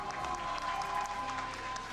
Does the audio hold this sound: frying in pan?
no